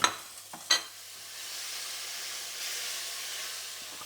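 Ginger frying in a hot pan: a few clinks at the start, then a steady, close sizzling hiss that holds evenly to the end.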